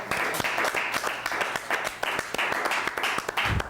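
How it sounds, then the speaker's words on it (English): Audience applause, a fairly faint, steady patter of many hands clapping together for a few seconds with no talk over it. "You can clap."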